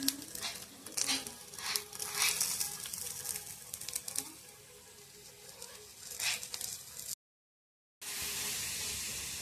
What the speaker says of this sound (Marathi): आपल्या वड्या भाजून तयार झालेल्या आहेत मस्तपैकी कमी तेलाच्या